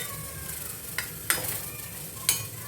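A spoon stirs soy sauce into pizza toppings in a pan on a home stove in India, with a soft steady sizzle under a few sharp scrapes and clinks against the pan.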